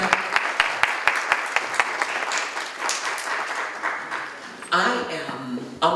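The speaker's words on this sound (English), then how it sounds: "you should give yourselves a round of applause for being here." An audience claps in a room, starting with distinct sharp claps that swell into dense, steady applause before fading as a voice comes in near the end.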